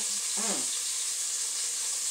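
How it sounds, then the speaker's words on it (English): Chopped vegetables fry with a steady sizzle that hisses throughout, with a brief clatter of stirring near the start. "Don't you just love that sizzle?"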